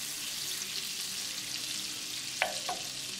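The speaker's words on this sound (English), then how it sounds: "As the butter started to melt," Butter melts and sizzles in a pan for a garlic red shrimp dish, a steady bright crackle throughout with two brief scraping stirs near the end.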